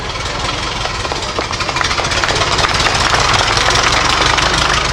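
A 1908 Maxwell HC Touring car's two-cylinder opposed, 20-horsepower engine runs loudly and close at an old car festival, a dense continuous mechanical clatter that holds steady throughout.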